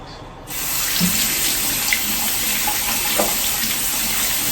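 Tap water pours steadily in a kitchen sink during washing, a close, continuous broadband rush that starts abruptly after a brief quieter moment and holds evenly, with faint clinks.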